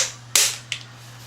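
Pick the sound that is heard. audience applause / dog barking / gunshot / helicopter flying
gunshot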